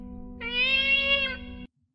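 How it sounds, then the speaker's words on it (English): A single drawn-out cat meow, clear and fairly close, rising then trailing off over a low steady hum, followed by silence. "Did you guys hear that noise? Oh, it's the cat."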